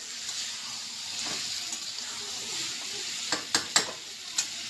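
Frying masala in a pan on a home stove hisses in a continuous sizzle after water is poured in, with several sharp clinks of a spoon or utensil against the pan near the end.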